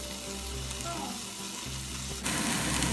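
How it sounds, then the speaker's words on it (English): Steak sizzles steadily in a frying pan, a loud, even hiss throughout that grows fuller and brighter near the end, with no voices. "Place steak in a frying pan."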